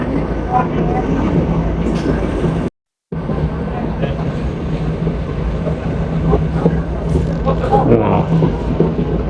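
A mountain cogwheel train on Mount Rigi, Switzerland, rumbles steadily with a low mechanical drone and rattling, broken by a brief dropout, with faint voices underneath.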